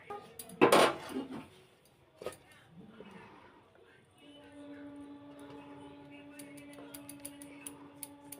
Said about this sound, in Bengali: বাটিটা নিয়ে নিয়েছি বাটির মধ্যে ঢেলে নেব